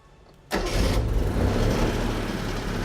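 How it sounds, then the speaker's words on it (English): The restored Serial One, the first Honda car sold in the U.S., turns over and its small engine catches abruptly after a quiet moment, then settles into a steady, close, throaty idle with slight revving. "we want to fire it up? You want to hear it run?"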